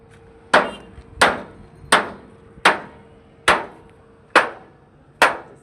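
Seven sharp metallic hammer blows on heavy truck suspension parts during pin and bush replacement, struck at an even, slow pace, each ringing briefly before the next, close and loud.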